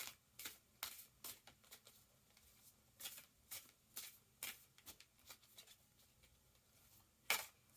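A tarot deck shuffled by hand and cards pulled from the top, heard as quiet, irregular bursts of crisp card riffling and flicks with short pauses between them.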